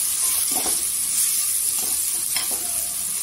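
Onion masala frying in hot oil gives a steady, close sizzle with a few soft stirring scrapes, loud and continuous throughout with no voices.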